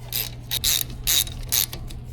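Ratchet tightening brake caliper bolts on a 2007-2015 Mazda CX-9 rear brake, several quick close bursts of clicking pawl separated by short pauses.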